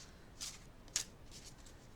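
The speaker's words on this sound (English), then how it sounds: "All right, so I've got them shuffled." Playing cards being shuffled by hand, with two brief riffling bursts close up, the second one sharper, followed by faint softer card rustling in a quiet room.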